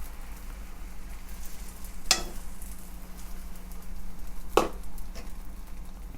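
A mushroom omelette made with egg fries in an oiled pan with a soft, continuous sizzle and two sharp utensil clicks partway through.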